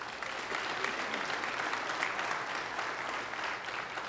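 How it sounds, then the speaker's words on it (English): Steady applause from a church congregation honouring a family during a Sunday service, a dense even wash of clapping that holds at one level for several seconds. "Let's give this family a round of applause."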